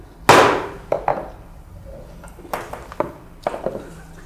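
A session gavel strikes at an evening meeting: one loud sharp knock, then a quick pair of knocks, followed by a few fainter separate taps, with no talk over them.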